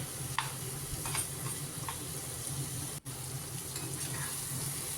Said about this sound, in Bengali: আলুটা দিয়ে ভালো করে কষতে থাকবো।